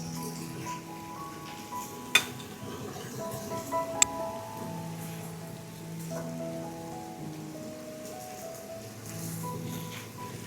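Beef going into a pan of stir-fried cabbage, a soft continuous sizzle with a couple of sharp utensil clinks near the start, and a quiet tonal hum running beneath.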